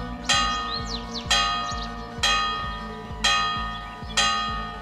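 A church tower bell in a medieval RPG tolls five times at an even, slow pace, each loud metallic strike ringing out and fading before the next, heard alone.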